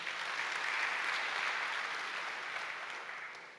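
A church congregation applauds during a sermon, a dense, steady wash of many hands clapping at once, close and full, holding level before easing slightly at the end.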